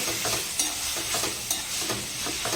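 Chopped tomato and fenugreek leaves being stirred in a hot pan, a close sizzling hiss broken by quick repeated scrapes of a spoon, brief and without speech.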